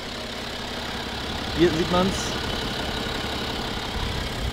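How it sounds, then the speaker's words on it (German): A BMW 330d diesel engine idling at a standstill, a steady low hum heard close, with someone speaking German briefly over it. "in drei Varianten einmal den Motor, den Motordezibel und den Motorlauf im Stand aufgezeichnet"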